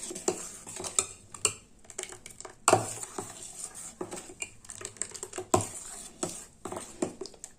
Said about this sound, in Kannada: ನೀಟಾಗಿ ಎಲ್ಲನೂ ಮಿಕ್ಸ್ ಮಾಡ್ಕೊಳ್ಳೋಣ.